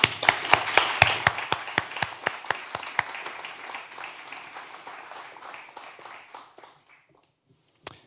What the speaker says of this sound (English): if we could all have a round of applause